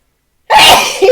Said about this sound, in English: That sneeze is huge.